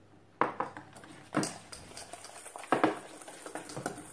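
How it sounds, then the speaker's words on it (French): A whisk stirs chocolate cake batter with added flour in a bowl, producing close, irregular metallic clinks and scrapes against the bowl with a soft swishing underneath, no voices. "Je mélange bien jusqu'à ce que ça soit bien homogène."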